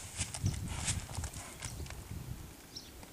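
A trail horse's hooves clop across a ground obstacle during groundwork training, several close, uneven steps with a brief soft whinny-like note in the mix.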